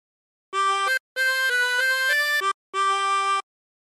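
Harmonica playing the opening phrase of Ampar-ampar Pisang: three clean sustained breaths of bright reedy notes with short steps in pitch, separated by brief silences, solo and close.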